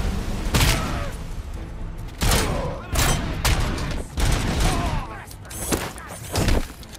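Gunfire and thudding explosions from a grenade-throwing enemy in the shooter game RoboCop: Rogue City, loud dense bursts of shots and booms in several waves, with a voice speaking at times.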